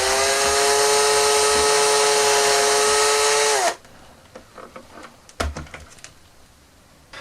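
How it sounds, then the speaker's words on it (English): A power drill whines loudly and steadily for several seconds, drilling through a plastic barrel part of a vintage Action Man SLR toy rifle, then stops, followed by quiet handling noises and small knocks. "we're going to be drilling through the new bit that we've replaced on this barrel"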